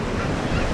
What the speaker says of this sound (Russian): волна заливает все до стенки